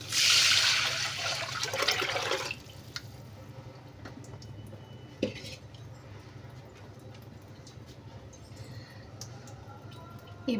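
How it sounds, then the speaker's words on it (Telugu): Tomato tamarind rasam is poured into a cooking pot in a loud gushing splash that stops abruptly, followed by a quiet kitchen with a soft knock and faint trickling. "ఇప్పుడు ఈ టమాటా చింతపండు రసం ఇందులో వేస్తాం"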